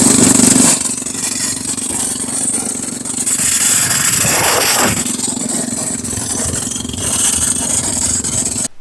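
A homemade go-kart built from a lawn mower drives slowly around a neighborhood, its small engine droning steadily and close by with a rough, buzzing tone throughout.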